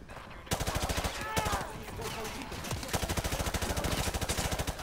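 Rapid automatic gunfire from Modern Warfare 2 Remastered rattles in a steady, fast burst after a short pause, dense and close, with a quieter swelling sound partway through.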